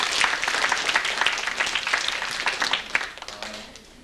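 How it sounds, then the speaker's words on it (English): Audience clapping at a 1996 convention youth program in Boston, a crisp burst of many hands that holds steady, then tapers off and fades toward the end, with no voices over it. "Okay, let's give a round of applause to Linda"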